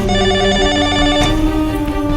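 A telephone rings steadily and loudly, a continuous electronic trill repeating without pause.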